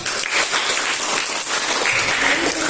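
Audience in a classroom at a madrasah in Gorontalo applauding, with a dense, steady burst of clapping from many hands lasting a few seconds.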